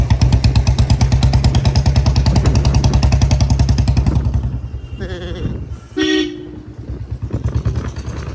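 A Hero Honda Platina 2022 motorcycle idles with a loud, steady putter, then the engine dips and is restarted, with a short horn-like toot in between.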